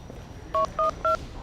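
A telephone keypad is dialed, giving three short, clear DTMF beeps in a quick, even sequence over faint background noise.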